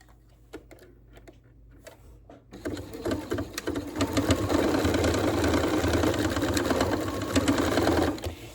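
A sewing machine starts after a few soft taps and runs steadily and loudly while stitching and backstitching fabric for a yard American flag, its rapid needle rhythm continuing to the end.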